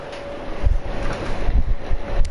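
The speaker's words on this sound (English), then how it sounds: "It's a big tower fan." Big tower fan running in a room, a steady broadband whoosh with a faint constant hum, with soft low thumps and handling bumps over it.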